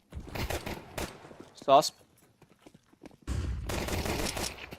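Glock pistol fire in a shooter video game match, bursts of rapid shots at the start and again near the end with a quiet gap between, over a caster's excited voice.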